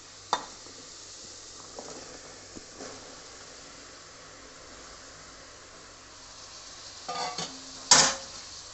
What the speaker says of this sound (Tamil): காயையும் நல்லா நம்ம ஒரு 2 நிமிஷம் நல்லா வதக்கிக்கலாம்.